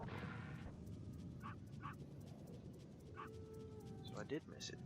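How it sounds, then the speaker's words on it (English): A dog or wolf in the Metal Gear Solid video game gives several short yips and whimpers at moderate distance, scattered over a low rumbling game backdrop with faint background noise. "There's the dog again, or the wolf."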